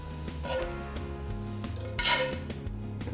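Green beans sauté in a pan with a steady soft sizzle, while a utensil scrapes and clinks against the pan in irregular stirring strokes, heard close with no talking.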